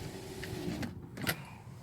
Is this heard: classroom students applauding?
no